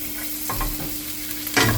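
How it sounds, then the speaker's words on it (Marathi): Chopped garlic frying in hot oil reused from deep-frying, a steady soft sizzle with a stirring scrape partway through, close and without voices. "गार्लीक फ्राय करून घेवपाची."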